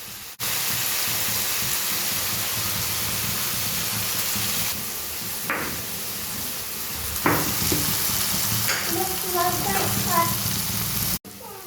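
Soaked and boiled felom beans being stir-fried in a pan, a loud continuous hiss of frying with a few scraping strokes of a spatula, close up, while a voice speaks faintly in the background.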